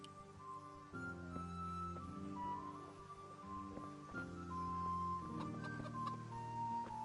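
Chickens clucking in the medieval video game Kingdom Come, with repeated near, tonal bird calls over a quiet game background and no talk.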